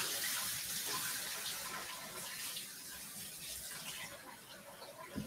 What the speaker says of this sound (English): I need to get a pot of water going.